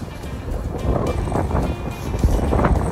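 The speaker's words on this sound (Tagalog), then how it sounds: "lakas ng hangin" Strong wind buffets the microphone in a steady, rumbling roar with gusty surges throughout.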